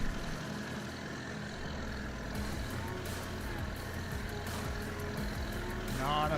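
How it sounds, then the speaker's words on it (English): A 1954 John Deere Model A tractor engine in the game Farming Simulator 22 gives a steady low idling drone that continues throughout at moderate level. "It's a loud tractor."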